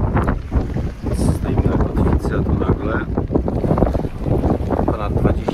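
Strong wind over 20 knots buffets a sailboat at anchor at night, roaring and gusting steadily against the microphone while someone speaks over it.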